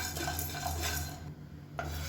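Spices dry-roasting in a pan while being stirred with a metal spoon, close scraping and light sizzle, repeated stirring strokes with a brief pause, no talk.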